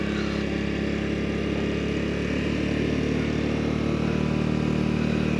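Honda Navi motorbike engine running steadily while riding through a Louisville park, a constant close mid-pitched drone with no breaks.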